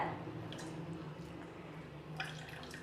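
Juice drips steadily from squeezed, ground apple, beetroot and carrot pulp being pressed for halva, a close, soft wet trickle over a constant low hum.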